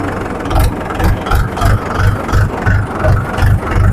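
A Swaraj 843 XM tractor with an old blue bonnet runs steadily close by, its diesel engine chugging in an even, loud rhythm of low pulses with no voices.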